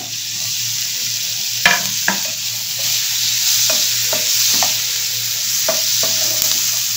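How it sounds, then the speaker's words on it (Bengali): Chopped onion frying in butter sizzles steadily in a pan, with several sharp scrapes and knocks of a spoon stirring it, no one speaking. "এবারে যে অনিয়নটা বা স্যালাডটা আমি কেটে রেখে দিয়েছিলাম সেটা আমি দিয়ে দিলাম ভাজার জন্য।"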